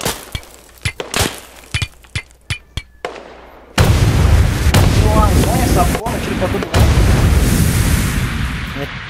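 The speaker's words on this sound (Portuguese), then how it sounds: "Tem um lá do morro atirando," Gunfire in the online shooter Badlanders, a string of sharp distant shots from a hillside followed by a loud sustained burst of heavy firing and blasts, with players talking over it.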